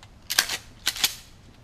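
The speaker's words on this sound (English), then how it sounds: "I'm going to shoot it in the front too." A 12-gauge shotgun slug fired into a microwave in a backyard: two sharp, fairly quiet reports about half a second apart, each with a short bright crack and brief tail, with no talking.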